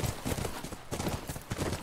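Rhythmic hoof clopping from a horse in The Last of Us game, steady and fairly close, running continuously over a busy background with a few bursts of sound.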